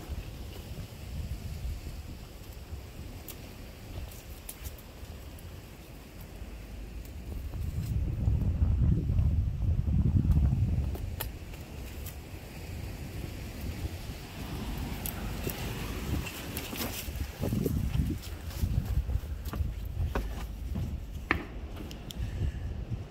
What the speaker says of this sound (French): Encore pas mal de vent là, malheureusement.